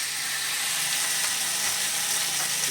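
Ginger garlic paste hitting greens frying in a pan brings a steady, bright sizzle that holds evenly, close and loud, with no talk.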